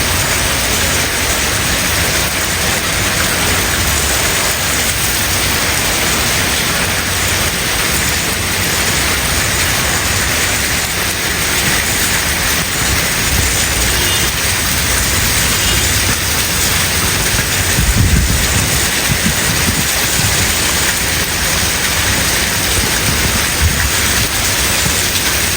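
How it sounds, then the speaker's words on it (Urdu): Very heavy cloudburst rain in Islamabad pours down as a dense, steady roar that stays loud and unbroken throughout, with no voices over it. "بہت شدید بارش."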